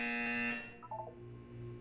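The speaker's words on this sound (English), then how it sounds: "When you hear the buzzer, look down at the floor." A loud, harsh electronic buzzer tone in the video game Portal 2 sounds for about half a second, then cuts off into a quieter hum with a few faint blips.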